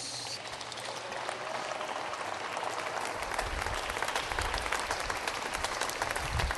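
A church congregation applauds during a sermon, a dense, continuous roar of many hands clapping, loud and sustained with a rain-like texture and no talk over it.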